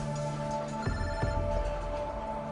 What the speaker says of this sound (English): During the meal, Moises gets a phone call